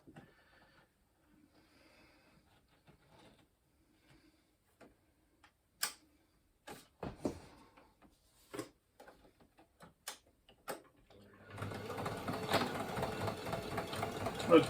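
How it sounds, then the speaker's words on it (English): Sewing machine stitching the shoulder straps of an ALICE pack: quiet isolated clicks and short ticking bursts, then a louder steady run of stitching at the end, close by. "So let me get in here and do some more sewing here."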